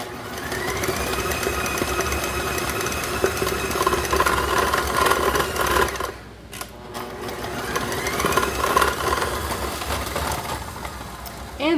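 An electric mixer whirs at a higher speed through eggnog cookie dough, a loud steady mechanical drone that dips briefly midway and then picks back up.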